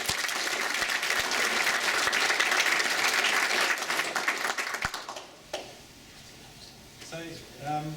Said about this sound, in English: So a round of applause for Liara.